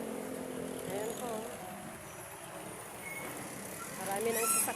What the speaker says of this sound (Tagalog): Marami ng sasakyan.